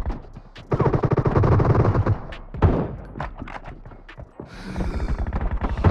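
Win94 rifle gunfire during a team deathmatch video game, heard as a few sharp shots scattered among dense in-game action sounds rather than a steady stream.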